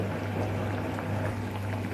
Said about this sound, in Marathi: डाळीला छानपैकी उकळी आलेली आहे